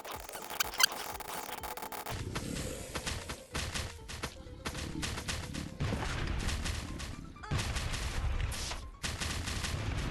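Gunfire and grenade blasts crowd a firefight in the survival game Last Day on Earth, with rapid shots, bursts and heavy booms rattling almost continuously, loud and dense with brief gaps.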